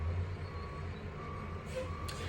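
A truck on a city street reverses, its backup alarm beeping in a steady tonal pattern over a low engine rumble, faint and somewhat distant.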